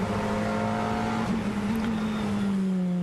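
Audi R8 LMS GT race car heard onboard at Nogaro, its engine a loud, steady drone with a shifting pitch as it pulls through the corners.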